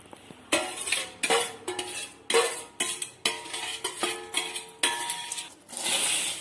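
Metal spoon scraping and clinking in a pan as roasted gram and peanuts are stirred into crispy boondi with fried curry leaves, repeated rhythmic strokes close and clear with no talking.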